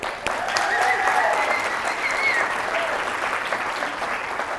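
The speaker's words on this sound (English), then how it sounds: "So maybe a hand of applause for her today." An audience at a talk on wetland conservation gives a sustained round of applause, loud and even throughout, with a voice briefly audible over the clapping.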